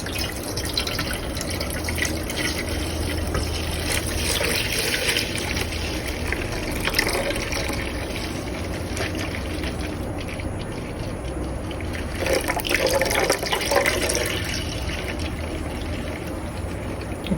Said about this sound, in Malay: tuang perlahan-lahan air ikan ni